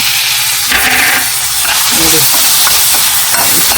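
Onion with ginger garlic paste frying in a pan, a loud close sizzle mixed with the scraping and knocking of a spoon stirring, continuous for a few seconds without clear speech.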